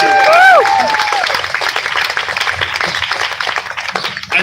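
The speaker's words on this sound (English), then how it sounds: "can you please just maybe raise your hand and maybe give you a round of applause?" Outdoor crowd at a Pride event on a Sunday afternoon breaks into applause, steady clapping with a few whoops over it, beginning loud and gradually thinning out.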